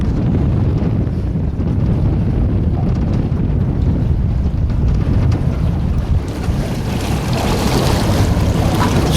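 Boat motor idling on a river after years laid up, a steady low rumble under heavy wind buffeting and water wash, loud and continuous with no talk.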